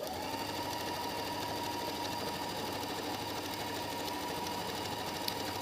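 Constant mechanical whir of a sewing machine running a seam on a jacket sleeve, steady and close with no pauses, alone without speech.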